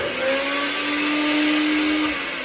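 A NutriBullet blender whirs through a thick chocolate avocado mousse in one sustained burst, a loud, close motor whine with a rising pitch under heavy load, alone without speech.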